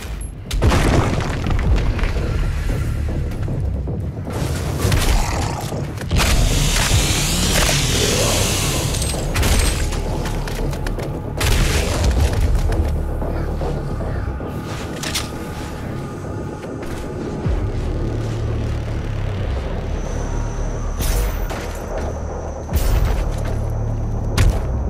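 Bomb blasts from the shooter game Doom Eternal, a loud continuous barrage of booms, rumbles and crackling debris with mechanical clanks, dense and close throughout.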